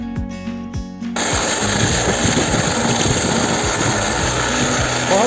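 A helicopter near Kedarnath, steady loud rotor and turbine roar that swells in after a second and holds close and constant, with a high engine whine throughout.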